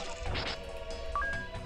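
Swords clash against enemies in the Soul Knight video game, a few quiet crashing, whacking hits over a steady hum of game music, with no one speaking.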